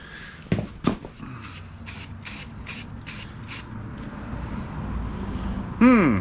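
Spray paint coats the fire-damaged engine compartment of a 1977 Ford F250 XLT in 1970s brown. Several short, close hissing bursts come in a quick series, then a longer steady spray over faint background noise.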